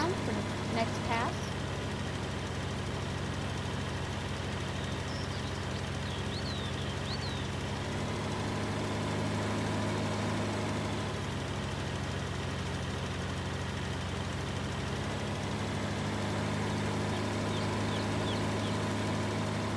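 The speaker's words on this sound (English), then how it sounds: "This little tractor's doing it." Small tractor engine running steadily while working a field strip in the Alps, a constant low idling chug with a harmonic drone that persists throughout, with faint scattered background sounds and a brief knock near the start.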